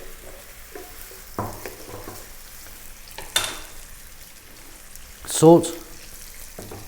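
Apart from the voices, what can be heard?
sliced onions frying on high heat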